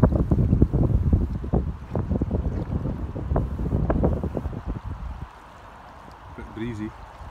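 Steady wind buffets the microphone beside the River Tay in Scotland during fly casting, a loud rumbling gust that roars for several seconds and then drops to a quieter hiss near the end.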